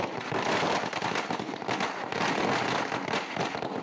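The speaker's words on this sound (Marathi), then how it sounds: "फटाक्यांची आतषबाजी सुरू आहे" Firecrackers and fireworks crackle continuously outside Devendra Fadnavis's Nagpur residence during celebrations after a Maharashtra government swearing-in, a dense, loud, unbroken roar of rapid pops and bangs with no talk.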